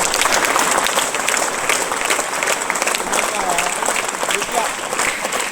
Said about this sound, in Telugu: కొట్టండి మళ్ళీ క్లాప్స్ లిఖిత్ రాయల్.